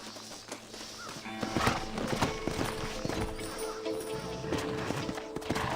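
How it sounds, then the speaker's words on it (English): Horse hooves clip-clop steadily in the Red Dead Redemption video game, a rhythmic run of close, fairly loud hoofbeats with faint background ambience. "Horses are over here!"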